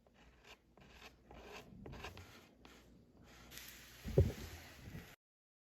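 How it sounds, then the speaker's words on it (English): Wood being lightly sanded by hand with 120 grit sandpaper: a series of short, close, raspy rubbing strokes in an uneven rhythm, ending with a louder scuff before cutting off. "Lightly sanded. It's 120 grit."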